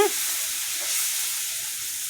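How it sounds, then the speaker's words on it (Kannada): Cooked rice is stirred into hot tempering with onion and coconut in a pan for chitranna, a steady close sizzle and hiss with light scraping running unbroken throughout. "ಈ ಒಗ್ಗರಣೆಯಲ್ಲೇ ಅನ್ನನ ಚೆನ್ನಾಗಿ ನೀಟಾಗಿ ಕಲಿಸ್ಕೊಳ್ಳಿ"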